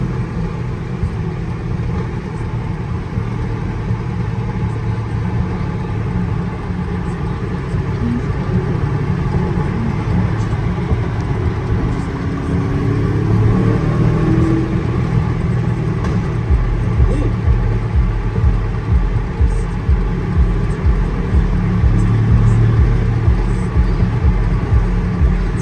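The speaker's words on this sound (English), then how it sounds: "Let's take it for a drive." A 2023 Aston Martin DBX 707 SUV drives along with a low, steady engine rumble that rises slightly near the end, heard from inside the cabin with talking over it.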